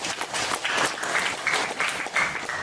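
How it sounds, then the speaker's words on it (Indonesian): A crowd claps together in applause, a dense continuous patter of many hands at moderate loudness that holds steady for a couple of seconds without talk over it. "Tepuk tangan buat Bali dulu."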